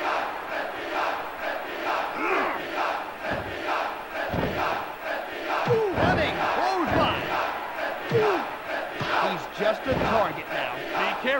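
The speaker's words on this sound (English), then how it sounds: "the crowd started cheering for Mike Whitbreck" Crowd noise from the ECW Anarchy Rulz wrestling video game, a steady roar with bursts of cheering and shouts, loud and continuous throughout with thuds of in-ring action mixed in.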